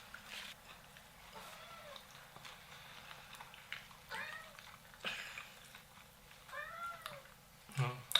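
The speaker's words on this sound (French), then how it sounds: "on a un chat" A cat meows faintly several times, spaced out, during a meal of Chinese dim sum, with people talking quietly nearby.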